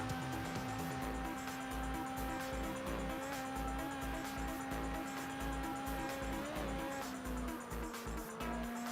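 Engine of a car driven fast down a wide open four-lane road in Test Drive Unlimited, a steady loud drone with a sustained hum that holds pitch, dipping briefly near the end.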